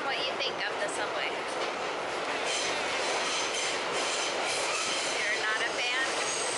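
New York City subway train riding along, a steady loud rumble of wheels on rails with metallic squeals and clatter throughout, heard from inside the car.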